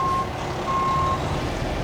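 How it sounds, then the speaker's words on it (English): A tow truck's reversing alarm sounds outside a state police headquarters, its steady electronic beeps repeating over loud engine rumble and outdoor noise nearby. "Is that a tow truck?"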